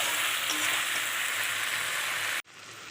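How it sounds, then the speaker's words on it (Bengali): Fried potatoes being sautéed with spices in oil for an egg and potato curry, a loud, steady close sizzle with stirring, cutting off abruptly near the end into quieter hiss. "এই আলুগুলো দিয়ে আবার আমি কষাবো"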